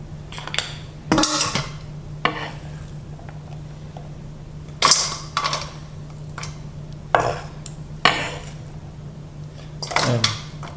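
A large bowl is handled while tabbouleh salad ingredients such as chopped tomatoes and cucumbers go in: intermittent close clinks, knocks and scrapes of utensils against the bowl, separated by short quiet gaps.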